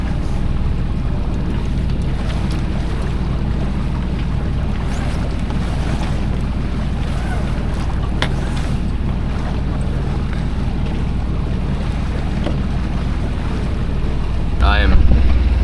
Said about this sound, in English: Motoring into these waves